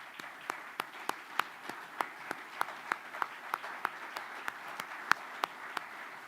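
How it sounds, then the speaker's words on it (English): Sparse, scattered claps from an audience at a high school athletic awards night in Michigan, honoring the nominees' support system; individual sharp claps ring out at a fairly steady, thin rhythm rather than a full ovation, moderately distant. "please clap for your support system that's in the room tonight?"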